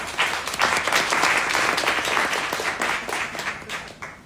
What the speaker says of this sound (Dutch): Nogmaals een applaus.